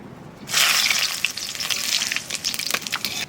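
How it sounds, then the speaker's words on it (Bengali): Cumin seeds and bay leaves dropped into hot oil for a chicken curry burst into a loud sizzle after a quiet half-second, settling into crackling, popping frying close by. "তেলের উপর দিয়ে দেবো জিরে আর তেজপাতা"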